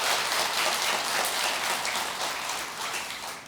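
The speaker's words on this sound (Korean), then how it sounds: "이해가 되시면 박수 한번 더 치세요" At a Buddhist Hwaeom dharma assembly, a crowd claps in a dense, even wash of applause that keeps on for a few seconds and eases off slightly at the close.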